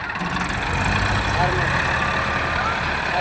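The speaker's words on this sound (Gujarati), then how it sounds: "હવે આગળ ટ્રેક્ટર કાઢવાનું ચાલુ કર્યું છે" A Mahindra tractor loaded with 200 sacks, stuck in a farm field, runs its engine with a steady low rumble while pulling out, close and loud throughout.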